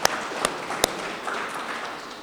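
A crowd at a Mississippi State Fair announcement applauds law enforcement, a steady wash of many hands clapping with a few sharper nearby claps standing out.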